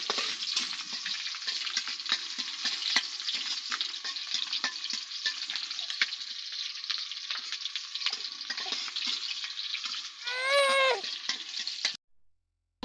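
Green chillies and onions fry in oil in a kadai with a steady, close hiss and scattered stirring clicks, a short meow-like cry rising near the end just before the sound cuts to silence.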